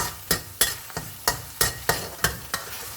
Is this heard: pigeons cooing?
no